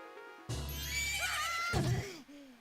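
Horse neighing in the video game Zelda: Majora's Mask, a loud, clear whinny rising and trailing off, followed by a short snort-like burst near its end.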